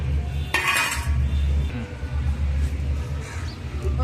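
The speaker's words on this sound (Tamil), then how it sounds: "இப்போ நெய் சூடாகிட்டு இந்த முந்திரியும் திராட்சையும் போட்டு" Cashews and raisins fry in hot ghee in a pan while making sweet pongal, with a burst of metal spoon-and-pan clatter and scraping over a steady low kitchen hum.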